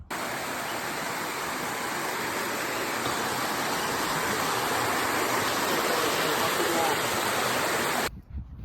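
A Puerto Rico waterfall roars steadily at close range, a dense unbroken rush of falling water filling the scene before cutting off abruptly near the end.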